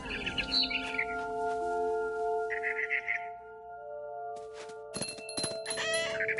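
A barn swallow chirps near a window in the video game What Remains of Edith Finch, with a few short bright tweets coming in bursts over a sustained tonal game soundscape, followed by sharp chiming hits near the end.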